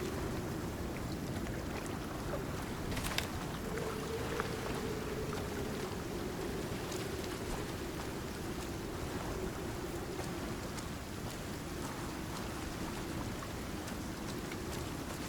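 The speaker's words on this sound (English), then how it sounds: "So it's already started to rain." Rain falls steadily in Icarus, a dense, constant patter mixed with a low watery rumble. It holds an even level with no voices.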